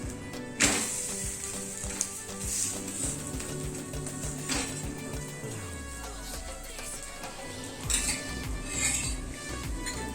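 Onion thalipeeth mixture is sautéed in a pan with clinks and scrapes of a spoon against metal, a mild sizzle underneath, and a low mechanical hum gliding down midway.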